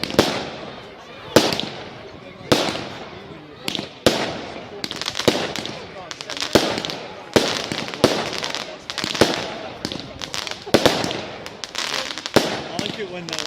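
Bonfire Night fireworks explode outdoors in quick succession, sharp loud cracks and bangs repeating every second or so with crackling tails between them, while people talk faintly in the background.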